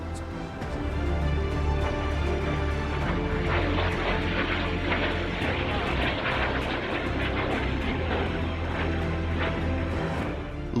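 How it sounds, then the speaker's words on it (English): Fighter jets roar over a Royal Navy warship during a major naval exercise, a loud, steady engine rumble and rushing wind noise that holds for about ten seconds with no fade. "Launching 2 squadrons of jets for the very first time"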